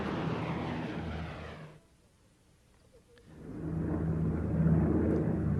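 Engine roar of the Enola Gay, a B-29 bomber taking off at night, a steady rumble that fades out briefly, then swells back up loud and sustained.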